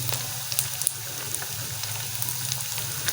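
Beef mince sizzles steadily as it fries and roasts in a pan, a constant soft crackle with scattered small pops, fairly quiet and with no talking.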